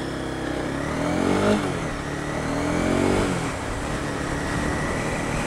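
Honda CBR300R motorcycle engine revved with small throttle blips, two rising-and-falling swells over a steady idle, fairly close and moderately loud.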